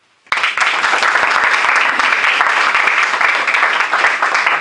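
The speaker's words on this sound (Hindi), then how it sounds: "कभी अपने लिए भी ताली बजाया करो" An audience at a National Youth Day event bursts into loud, sustained applause right after a brief silence, a dense patter of many hands clapping with no one speaking over it.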